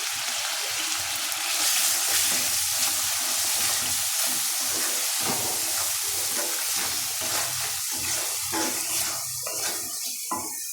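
Ground coriander and chili powder fry in hot oil in a pan, giving a steady, close sizzle with the scrape and clatter of stirring throughout.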